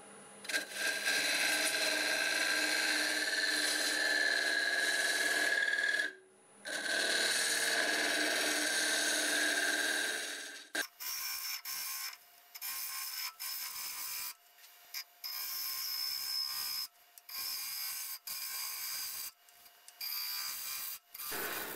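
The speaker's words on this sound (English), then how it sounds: "Half inch bowl gouge, and we're turning about" Half-inch bowl gouge cutting wood on a lathe spinning around 1100 RPM while turning a segmented bowl, a steady loud scraping hiss in long passes broken by brief pauses and shorter intermittent cuts.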